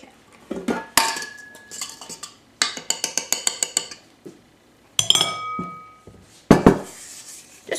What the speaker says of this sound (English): I'm just gonna mix the rest of it by hand, just so that it doesn't get overmixed